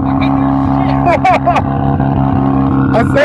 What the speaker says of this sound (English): I said I gotta get another exhaust hanger made. Cause it's just dangling and rattling.